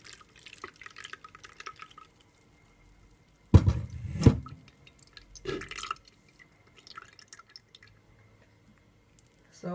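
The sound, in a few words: carrot pineapple strawberry juice dripping through a strainer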